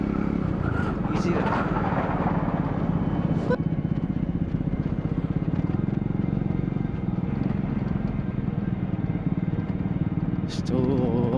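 A Triumph Scrambler 400X motorcycle ridden on a road from Kathmandu to Nuwakot, its steady engine drone and rumble running continuously and fairly loud, with occasional faint clicks and brief sounds over it.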